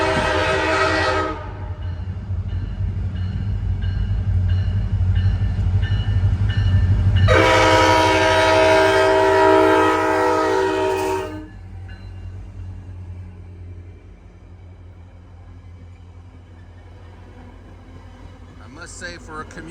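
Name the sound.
train approaching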